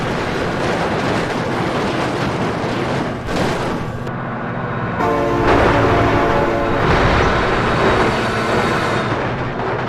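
A train rolls past with a horn sounding, a dense, loud rumble that stays steady across the clip and swells in its second half.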